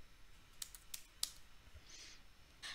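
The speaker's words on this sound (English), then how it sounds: "then I'll type my password" Someone types a password on a computer keyboard while setting up a Jenkins admin user, a short run of soft, close key taps and clicks in a quiet room.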